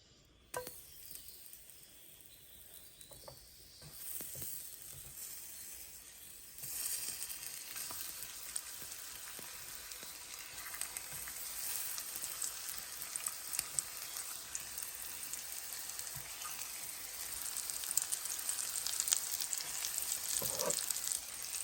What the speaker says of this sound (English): we're going to get this last batch of beef chunks into the frying pan